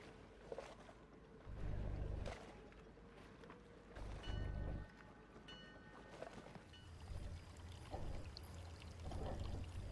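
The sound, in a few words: water being poured out of a bottle in video game Foolish Mortals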